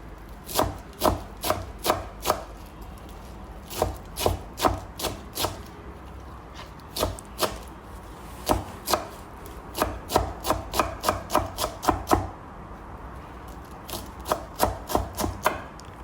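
A knife finely chops purslane on a cutting board, sharp taps coming in rapid bursts with short pauses between them, close and clear.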